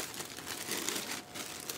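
Preformed plastic wrap from a shrink wrap machine crinkling close up, a continuous soft, rustling crackle being handled over a couple of seconds.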